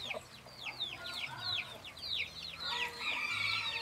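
A hen on a rural smallholding clucks in a run of short, rising calls, fairly faint and a little distant, against a quiet farmyard background with no talking.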